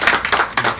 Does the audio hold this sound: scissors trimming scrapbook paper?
no